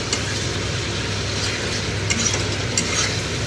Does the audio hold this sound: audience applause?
no